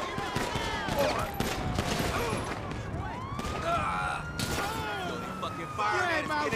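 Video game gunfire in a GTA V gang shootout, bursts of rapid shots and sharp cracks over a busy, loud mix with shouting voices and a siren-like wail.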